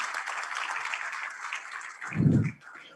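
Audience applause at the Brasil Export 2020 infrastructure conference, a soft, steady wash of many hands clapping at a distance, with a brief low thump near the end.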